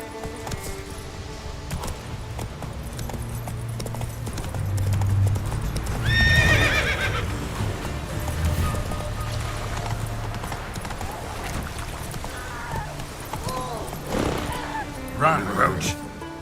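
Roach, a horse in the video game The Witcher 3, gallops with a steady, loud clip-clop of hooves and a neigh partway through, while a voice speaks over the hoofbeats.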